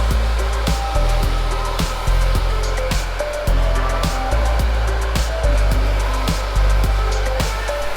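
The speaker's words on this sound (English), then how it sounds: "we're going to blow dry this to the left, and this little part we're going to blow dry straight down" Hair dryer blowing close and loud as hair is blow-dried into an undercut style, its steady roar pulsing slightly as the airflow is moved around, with no talking.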